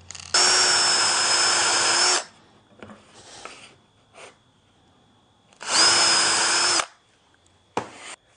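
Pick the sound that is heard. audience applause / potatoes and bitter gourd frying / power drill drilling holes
power drill drilling holes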